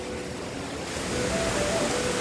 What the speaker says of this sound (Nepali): यो हो घट्टेखोला झरना, अत्यन्तै सुन्दर रमणीय छ।